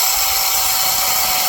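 A Handwise 6-inch battery mini chainsaw cutting wood makes a high, steady buzzing whine, close and continuous for the brief moment with no voices.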